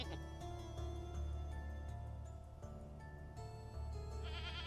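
Goats bleat faintly in the survival game Vintage Story, a few short bleats over a dense, steady layer of game ambience and background tones.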